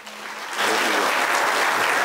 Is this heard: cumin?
no